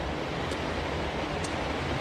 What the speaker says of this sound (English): The sound of the water is kind of lulling the steelhead